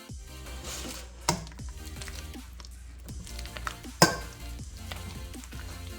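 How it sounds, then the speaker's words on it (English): Cassava dough being mixed by hand with salt and sugar, making soft squishing and kneading sounds under steady background noise, broken by two sharp knocks of a utensil or bowl. "Now let's mix everything together very well."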